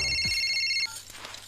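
A telephone rings on a call with a steady, loud electronic tone that stops abruptly after under a second, leaving a quiet, faint room background.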